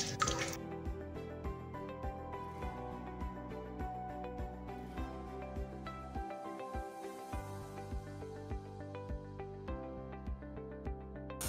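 Water drips and trickles in a steady, rhythmic patter while the water for newly hatched catfish fry is being changed on a catfish farm. The drips sit against a continuous tonal background, with no voices.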